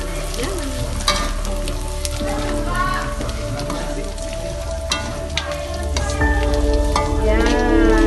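Dried anchovies fry in hot oil in a pan, a steady loud sizzle and crackle with repeated scraping stirs throughout, close up and with no voice over it.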